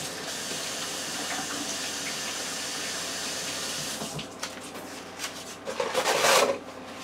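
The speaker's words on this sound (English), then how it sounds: "now let me wash my hands" Water runs steadily from a tap while hands are washed underneath, a constant close splash that turns into louder, uneven splashing and rubbing toward the end.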